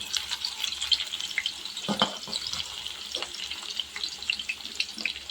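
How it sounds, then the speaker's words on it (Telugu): Onions frying in about a tablespoon of oil in a home kitchen for a curry, a faint steady sizzle broken by occasional scraping and stirring clinks, without speech. "ఇప్పుడు ఇందులో ఉల్లిపాయలు ఇందులో ఒక టేబుల్ స్పూన్ వేసి కొంచెం వేసాను ఆయిల్"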